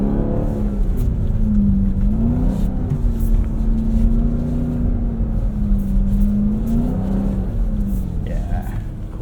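A 710 hp 2026 Dodge Durango SRT Hellcat Jailbreak AWD idles and revs on an icy, snowy rally course, its engine note rising and falling in a loud, sustained drone while people talk over it.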